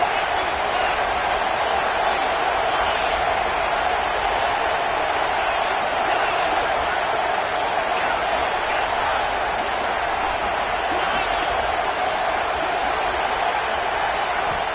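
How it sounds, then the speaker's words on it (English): Steady roar of a football stadium crowd, a loud, unbroken wash of cheering noise that stays constant throughout, with a commentator talking over it. "This crowd trying to make life miserable for this offense."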